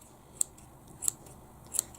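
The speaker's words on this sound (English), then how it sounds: "You can trim all the way around just to make it neater." Scissors snip around a fluffy yarn pom-pom, three quiet, close cuts spaced roughly evenly over two seconds against a soft background.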